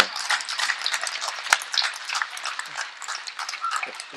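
Audience applause at a lively Tamil public speech event, a dense steady patter of many hands clapping at moderate distance for the whole stretch, with one sharp louder clap standing out.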